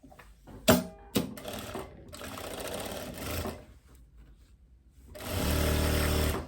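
Straight-stitch domestic sewing machine running along the side seam of a long loose dress, with short stop-start bursts early on and then a steady, close mechanical whir near the end.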